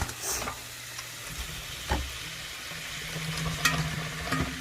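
Sweet potatoes going into a hot pan of lightly salted garden greens, frying with a steady soft sizzle and a few stirring scrapes and knocks, close by with no talking.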